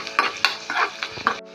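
Finely chopped garlic fries in coconut oil, heard as a close sizzle with rhythmic stirring scrapes and spoon knocks against the pan, about five strokes in quick succession.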